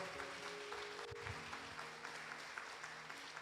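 Church congregation applauding together, a faint, continuous wash of clapping heard from a distance, steady with no pauses.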